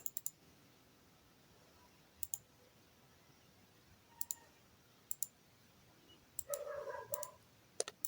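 Computer keyboard typing, quiet crisp clicks in short clusters separated by pauses, close to the microphone in a quiet room.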